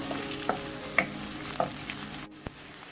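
Curry leaves sauteing in a pan, a steady sizzle with several clicks and taps of a spoon stirring, close and moderately loud, with no talking.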